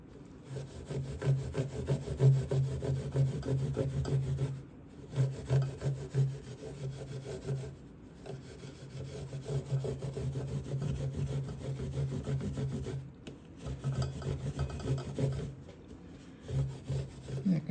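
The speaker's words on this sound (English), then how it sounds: "Now I'm going to go with the grain and the steel wool." Steel wool rubs along the grain of a Brazilian rosewood fingerboard on a cheap guitar, making loud, close, rhythmic back-and-forth scrubbing strokes in long runs with brief pauses between them.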